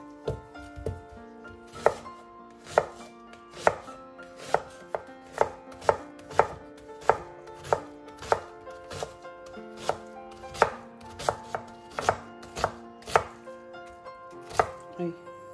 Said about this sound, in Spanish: Lo primero que hacemos es picar la cebolla.